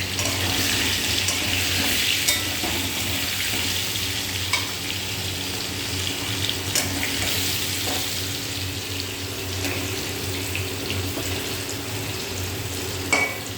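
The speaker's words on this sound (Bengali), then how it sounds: "এরকমভাবে উল্টে পাল্টে আলুটাকে প্রথমে ভেজে নেব" Potatoes being stirred and fried in oil, giving a continuous close sizzle with occasional scraping and stirring knocks throughout, with no talk.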